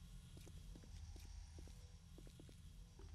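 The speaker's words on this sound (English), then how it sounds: "I hear footsteps." Faint, irregular footsteps in the survival game 7 Days to Die tap out a series of soft, uneven thuds, heard alone and quietly against a low background hum.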